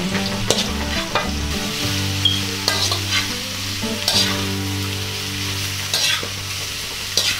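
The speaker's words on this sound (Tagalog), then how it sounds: "Ngayon naman po ay ang ating mushroom na naman ang ating susunod na gigisahin." Mushrooms sautéing in a pan for beef with mushroom: a steady loud sizzle with stirring scrapes and clinks close by, plus a low steady hum underneath, with no one talking.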